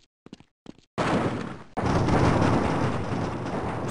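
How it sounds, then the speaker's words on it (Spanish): Heavy gunfire and explosive blasts in the VR shooter Half-Life VR, aliens battling soldiers; a few sharp shots at first, then a sustained loud roaring barrage. "Escucho disparos, tío."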